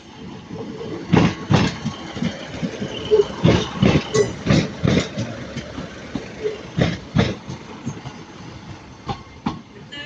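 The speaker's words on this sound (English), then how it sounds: "we've got Northern Class 156" A Northern Class 156 diesel train at Manchester Piccadilly station, its engine rumbling low under a series of sharp, irregular clanks and knocks that come close and fairly loud.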